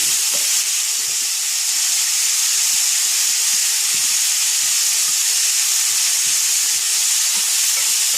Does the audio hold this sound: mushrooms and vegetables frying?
yes